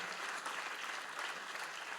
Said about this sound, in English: Another applause, I think, is deserved by Daron.